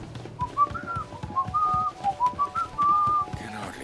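Person whistling a short wavering tune, a string of clear notes rising and falling, close and moderately loud over faint background clicks and thumps.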